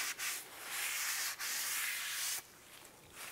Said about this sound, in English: Give it a quick wipe, try and remove all those shipping greases and oils.